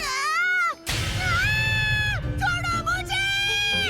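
A boy imitates a cat, letting out several drawn-out, wavering meows with his voice, loud and close, with short pauses between calls.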